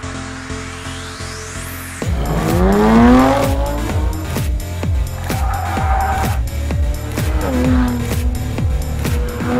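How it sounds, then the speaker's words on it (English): A Jaguar F-Type V6S on a race track, engine rising and falling through gears with crackles from its tuned exhaust and some tyre squeal, loud and close throughout, with no talk. "It's fun too, with the crackle of the engine as a musical accompaniment from the tuned exhaust"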